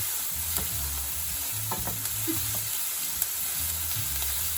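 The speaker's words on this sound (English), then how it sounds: "Take a suitably sized spoon and give it a stir" A spoon stirs a sofrito of carrots, onions and celery in a pan, with steady sizzling under scattered scraping and clinking strokes, close and moderately loud, with no talking.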